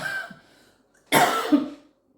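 A single harsh cough bursts out close by after a moment of near silence, preceded by faint breathy sounds.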